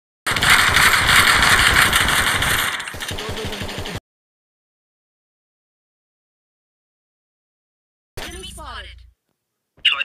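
A motorcycle engine drones loudly in a video game, a steady buzzing roar for several seconds that cuts off abruptly, then returns briefly with speech-like sounds in the gaps.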